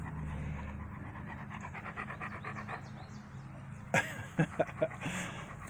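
Dogs pant in a garden on a warm day, with quick rhythmic breaths close by. A few sharp knocks and scuffles follow near the end.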